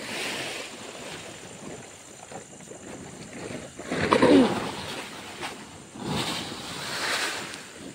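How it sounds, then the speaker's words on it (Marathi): A strong cold wind blows across a rice field during harvest, a loud, gusting rush with buffeting on the microphone that swells and fades in waves, peaking in the middle and toward the end. "थंड हवा सुटली ना, चमकते किती जोरात."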